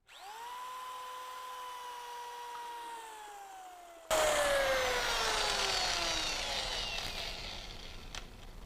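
A power drill whines steadily as it spins up and slows, then turns harsher and louder as it churns through glaze in a bucket, close and alone.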